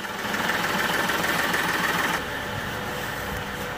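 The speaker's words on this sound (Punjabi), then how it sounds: "ਇਹ ਸੀਗੀ ਸ਼ਿਵਰਲੇਟ ਬੀਟ ਡੀਜ਼ਲ ਇੰਜਨ" A Chevrolet Beat diesel engine idles after a turbocharger replacement and clutch cylinder repair, a steady close mechanical rumble with a slight knocking pulse that drops a little in level partway through, with no talking.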